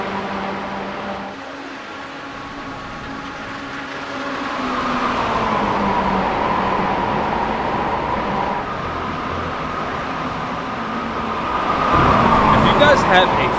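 Mazda MX-5 race cars running down the straight at Canadian Tire Motorsport Park in iRacing, engine drone shifting pitch as they accelerate and swelling louder near the end, with a voice partly over it.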